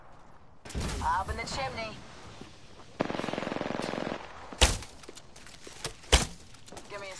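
Video game gunfire, with a steady burst of rapid automatic shots followed by two sharp, loud single blasts, mixed with a voice talking.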